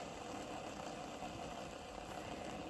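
Steady, dry mechanical whirring and rattling hum of metal sealed RC car ball bearings spinning without oil, continuous and fairly quiet, with no pauses and no voices.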